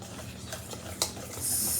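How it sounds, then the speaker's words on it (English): Ingredients are whisked together in a bowl, a short close-up burst of brisk stirring with a light clink partway through. "All right, let's get it all whisked together."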